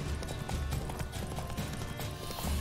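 Horse hooves clip-clop in a quick, steady rhythm as a horse is ridden through The Witcher video game, with a low rumbling game background beneath.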